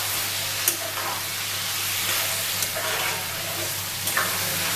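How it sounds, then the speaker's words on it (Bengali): Boiled mutton is stirred into a pan of rogan josh base, producing a continuous loud sizzle with occasional soft scrapes and light knocks of the spoon. "শুধু সেই মাংসটুকুনি আমি এখানে দিয়ে দিচ্ছি। দিয়ে এটার সাথে আমি ভালো করে একটু মিক্স করে নেব।"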